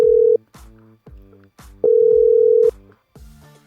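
Telephone ringback tone on an outgoing phone call, heard through the handset as long steady tones separated by pauses, with a short burst of dialing clicks and faint background sounds between rings and no talk.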